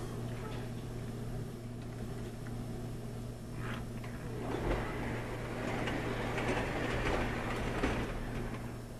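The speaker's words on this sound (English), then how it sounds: "There's another very long freight beside the mountain, which will come out now." A model freight train, a very long consist running beside a mountain on a home train set, rolls along with a steady mechanical hum and faint rail clatter that grows slightly busier toward the end.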